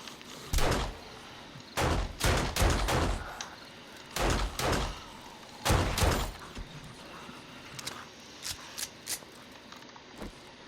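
Gunfire in the video game 7 Days to Die, Alpha 19: several loud bursts of rapid shots in irregular clusters, each sharp and close, separated by short quiet gaps, ending with a few lighter single shots.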